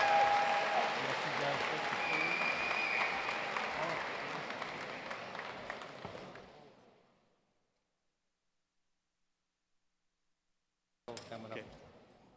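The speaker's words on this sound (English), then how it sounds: "Please give both of them a big round of applause." An audience at a Science Olympiad national tournament closing ceremony applauds the hosts, a broad wash of clapping that fades out over several seconds, then a pause of near silence before a short burst of clapping returns.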